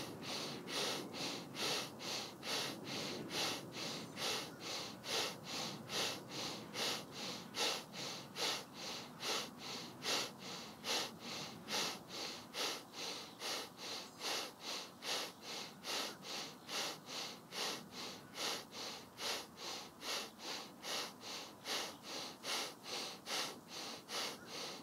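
Rapid, rhythmic pranayama breathwork with forceful breaths through the nose, pulsing steadily at an even pace for the whole stretch, close and prominent with no talking.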